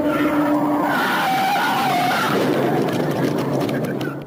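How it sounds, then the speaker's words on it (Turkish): A pickup truck skids out of control on a Florida road before crashing into a broken-down parked car. A loud, sustained tire screech dominates nearly the whole stretch and fades slightly at the end. "Tam incelemeye başlayacaktı ki arkasından gelen lastik sesini duydu"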